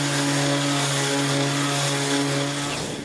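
A handheld belt power sander runs continuously on wood, a loud, steady motor whine with a constant grinding hum that tapers slightly at the end.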